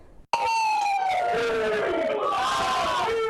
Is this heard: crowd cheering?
yes